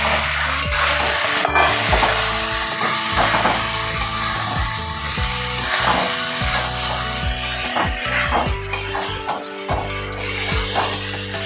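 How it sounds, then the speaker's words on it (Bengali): Tengra fish fry in oil with spice paste while being stirred, a steady close sizzle broken by repeated scraping strokes of the spoon against the pan. "এইবার আমি মাছগুলো দিয়ে আরেকটু কষিয়ে নেব।"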